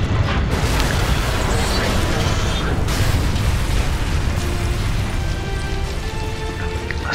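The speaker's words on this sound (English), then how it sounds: "After we're gonna blow the bridge." A bridge blown up in the video game Modern Warfare 2, heard as a loud, roaring explosion rumble that starts at once and keeps booming with dense low crackle and debris for several seconds.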